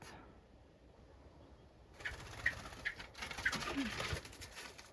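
A young bird that cannot yet fly is stuck near its nest in an old barn. A soft cooing call sounds close by after a quiet start, with a rustle of movement and a few short chirps.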